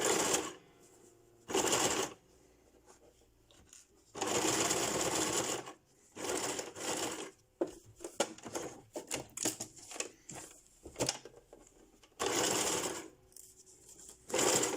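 A sewing machine straight-stitches the edge of a pleated fabric mask in several bursts of rapid, loud mechanical whirring, with quiet pauses and small clicks and handling noises in between.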